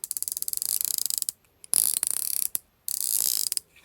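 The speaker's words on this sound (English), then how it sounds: "it has 2 arms, which make a really nice noise when you click them" Rapid mechanical clicking in quick bursts, separated by short pauses, crisp and close, like a plastic fidget toy's arms being clicked repeatedly.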